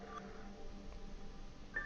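A cell phone is dialed in The Secret World game: a few faint, quick keypad tones over a low quiet background, with one clearer beep near the end.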